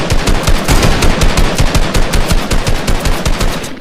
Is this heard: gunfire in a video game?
yes